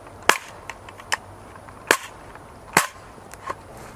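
A jammed AR-15 rifle is slammed down repeatedly to mortar it clear, several sharp, loud impacts at irregular intervals, with lighter knocks and rattles between them and no talking.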